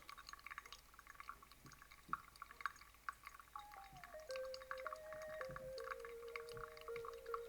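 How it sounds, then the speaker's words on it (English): Water drips through a pour-over coffee filter, heard as faint, close, irregular drips and small trickles in a quiet room, with a soft rising filling tone toward the end. "I try to get about the same speed as which that it's dripping through the filter"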